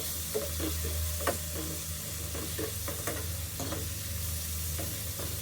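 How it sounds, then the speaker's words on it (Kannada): Peri peri paneer fries in butter in a pan, with a continuous close sizzle broken by irregular scraping knocks from a spatula stirring it. "ಬಟರ್ ಹಾಕ್ಬಿಟ್ಟು ಚೆನ್ನಾಗಿ ಸ್ವಲ್ಪ ಬಣ್ಣ ಬದಲಾಗುವವು ಮಿಕ್ಸ್ ಮಾಡಿಕೊಂಡ್ರೆ, ಅಥವಾ ಒಂದು 2-3 ನಿಮಿಷ ಈ ಥರ ಹುರಿದ್ರೆ ಅದು ಟೇಸ್ಟ್ ಬದಲಾಗುತ್ತೆ"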